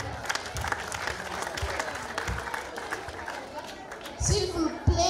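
An audience applauds after a French poem recital, clapping and cheering at moderate volume with scattered chatter, and the clapping swells toward the end.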